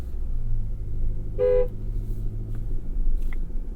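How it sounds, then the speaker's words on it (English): A single short horn honk from a 2023 GMC Canyon pickup truck, loud and close, over a steady low engine rumble. "Sounds like a horn."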